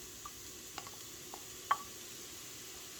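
Chopped button mushrooms sauté in a dry pan over high heat, a faint steady sizzle broken by a few soft clicks and stirring taps, quiet and close with no talk.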